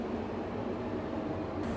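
Inside a CAT 330 excavator cab, the air conditioner blows with a steady broadband whoosh over a low engine hum.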